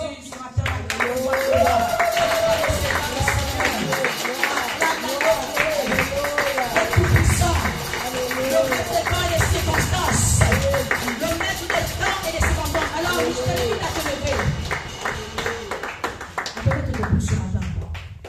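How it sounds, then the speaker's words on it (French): A church congregation applauds, with a steady, dense patter of many hands clapping throughout, mixed with cheering voices and a preacher speaking loudly over the crowd. "On acclame encore Jésus ce matin."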